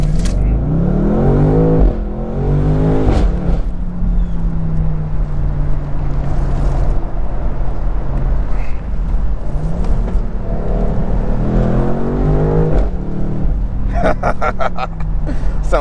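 A 2023 BMW M850i V8 convertible whizzes down a back road, engine loud and close as it revs up through gears in rising sweeps, settles into a steady drone, then accelerates hard again.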